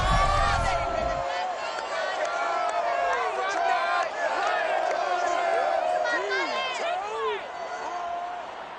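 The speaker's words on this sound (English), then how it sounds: "A good crowd on hand and seemingly ready to go in the Motor City." Stadium crowd cheering at Ford Field in Detroit in the video game Madden NFL 22, a steady dense roar of many voices with whoops and whistles rising over it, a brief low rumble at the start.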